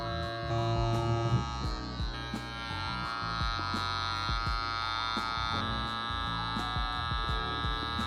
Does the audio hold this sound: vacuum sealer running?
yes